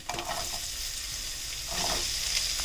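Chopped onions and crushed garlic hit a hot pan on lowered flame for a vegetable egg thoran, giving a steady close sizzle with brief stirring bursts, no talking.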